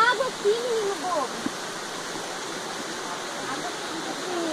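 Clean water running outdoors on a rocky expedition trail, a steady broadband rush like a small stream or waterfall continuing throughout, with brief voices over it near the start.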